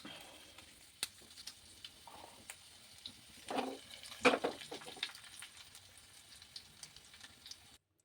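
Green chillies, cumin and mustard seeds hit hot oil for a tempering for drumstick-leaf chutney, giving a faint, steady sizzle with a brief, louder burst of crackling spatter midway.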